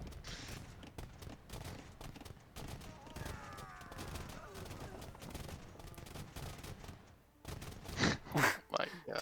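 Bursts of gunfire from musketeers and machine guns in a crowded Age of Empires arena battle, with rapid volleys and clatter mixed with game effects under ongoing talk.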